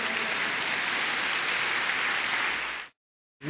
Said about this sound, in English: Clap for those 18 people.